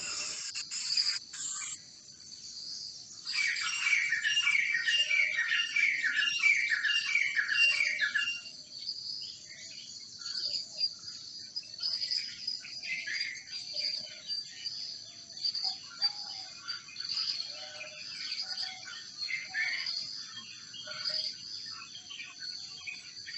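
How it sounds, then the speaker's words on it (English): Many birds call and sing at once in a dawn chorus, dense overlapping chirps and trills thick at first, then thinning to scattered calls over a steady insect buzz, with no talking. "Can you all hear so many birds calling?"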